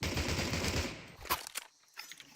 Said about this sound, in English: Actual blessed gunshot.